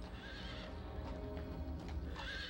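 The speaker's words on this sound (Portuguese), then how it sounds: "Um mensageiro chegou a cavalo" A horse gallops with rapid clip-clopping hooves and neighs loudly twice, at the start and again near the end, sounding close, like a staged sound effect.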